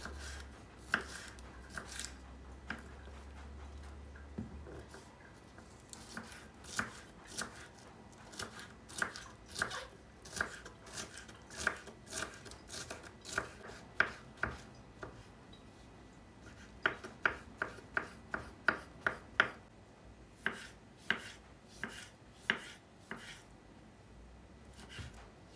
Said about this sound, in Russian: Для начинки мелко нарезаю болгарский перец, грибы, помидоры.